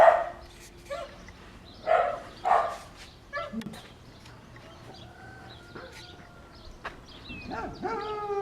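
A guard dog at a rural country property barks in several short, loud bursts, then quieter yips and whines follow, with faint birds and distant voices in the background.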